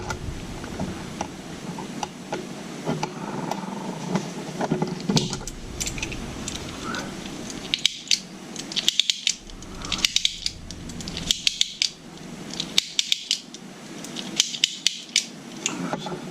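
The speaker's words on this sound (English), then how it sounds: "As far as I'm going to wind it to test it." Winding the spring of a vintage clockwork Disney toy gives a series of close, sharp ratcheting clicks in uneven bursts, fairly quiet against background noise.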